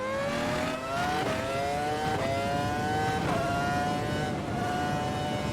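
A 2022 Formula 1 car engine in Automobilista screams as it revs up, climbing in pitch and dropping sharply with each gear change, loud and continuous, at the China circuit.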